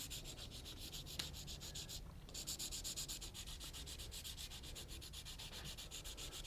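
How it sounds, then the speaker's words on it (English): Pencil graphite is rubbed back and forth across a sanding pad in a quiet, steady, close scratching rhythm, with one brief pause partway through. "get a nice little pile of graphite onto your sanding pad there"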